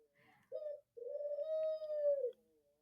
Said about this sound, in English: He's cooing now.